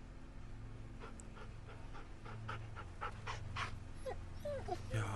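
A dog pants in The Walking Dead: Season 2 video game, with soft repeated breaths and whimpers over a steady low game hum.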